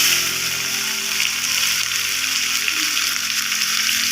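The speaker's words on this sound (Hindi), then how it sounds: "पियाज रो कलर ब्राउन होबा जाय भाजी नेबा" Onions fry in a pan with a steady, close sizzle that hisses without pause and holds an even level throughout.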